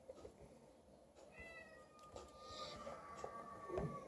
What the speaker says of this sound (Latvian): ar to māvošo kaķi, kurš visu laiku ņaud un traucē man uzņemt